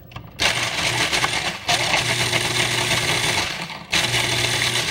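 A food processor runs for several seconds, loud and steady with a grinding, rattling whir, cutting out briefly twice and starting again.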